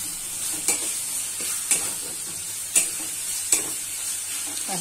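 Ghee, garlic, ginger and onion sizzle steadily in a pan, a continuous frying hiss broken by four sharp scrapes of a spoon stirring about once a second.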